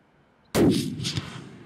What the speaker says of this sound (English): Shoot him right there.